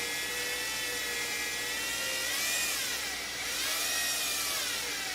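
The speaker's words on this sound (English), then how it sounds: "I'm going to get a drill at low speed and just very carefully run through" A power drill with a 1/8 inch bit whirs steadily at low speed, its pitch wavering slightly as it runs through holes in a 3D printer part, close and alone.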